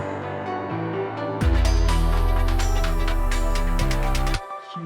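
An electronic hit bursts in with a sharp zap and a deep booming low end that sustains for about three seconds before cutting off.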